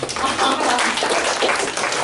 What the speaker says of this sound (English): This is a part normally where people clap